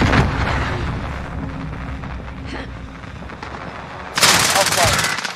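Rapid automatic gunfire in Call of Duty Modern Warfare rattles continuously, with a louder, brighter burst near the end and voices calling out under the shooting.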